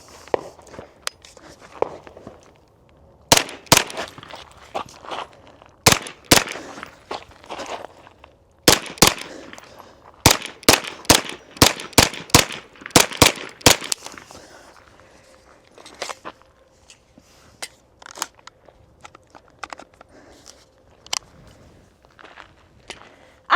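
Folding 9mm pistol caliber carbine firing at a range: a long series of sharp, loud gunshots, some in quick strings and others spaced apart, with quieter clicks and handling noise between them.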